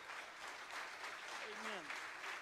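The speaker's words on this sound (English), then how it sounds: "Why don't you give the Lord a hand clap of praise tonight?" Congregation at a community Thanksgiving church service giving a round of hand clapping in praise, a steady, fairly distant patter with voices calling out over it.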